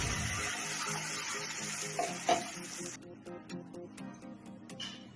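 Ground masala paste hitting hot oil and butter in a pan for dhaba-style butter chicken masala, a loud, dense sizzle for the first three seconds that thins into crackling spits and pops, with a brief clatter of stirring.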